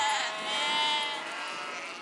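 A Heidschnucke sheep gives one long, wavering bleat, close and clear, lasting about two seconds with nothing else heard.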